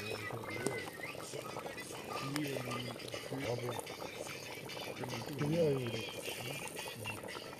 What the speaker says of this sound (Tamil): கொதிக்கிறேன், நல்லா கொதிக்கி கொல கொல கொல கொல.